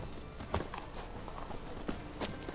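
Roach, a horse in a video game, walking with soft, irregular hoof clops, a few sharper strikes standing out against a low, steady background over a couple of seconds, with no voices over them.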